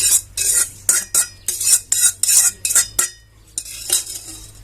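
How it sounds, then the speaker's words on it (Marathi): Roasted semolina stirred into a batter mixture in a pot, a spoon scraping in a quick regular rhythm of loud swishes and clinks, with a brief pause partway through. "मिश्रण छान असं एकत्र करून घ्यायचं आहे"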